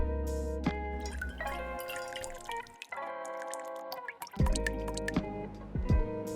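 Velvet Falernum, a Barbadian lime cordial with baking spices, poured into a metal cocktail tin, small drips and splashes over music with no talking.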